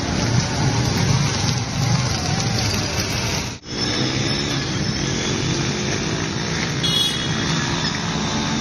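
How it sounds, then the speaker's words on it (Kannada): Heavy rain falling in Haveri, a steady dense hiss of downpour on surfaces with a brief dropout midway and distant road vehicle rumble beneath. "ರಾಜ್ಯದ ಹಲವು ಕಡೆಗಳಲ್ಲಿ ವರುಣನ ಆರ್ಭಟ"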